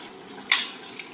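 Water splashes briefly into a pan of simmering mutton head curry, a single short pour burst rising from a quiet background and trailing off within half a second.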